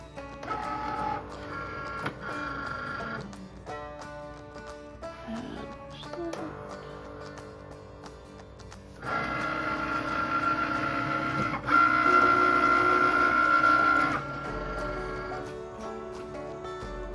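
Cricut machine cutting vinyl decals, with a continuous mechanical whir and motor buzz that shifts in pitch as the carriage moves, growing louder and steadier midway before easing off.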